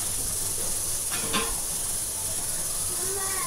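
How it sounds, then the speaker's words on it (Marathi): Garlic, onion and green chillies hit hot oil as the tempering for a cauliflower bhaji. A constant soft hiss runs throughout, with one brief louder burst partway through. "लसणाची फोडणी देऊन."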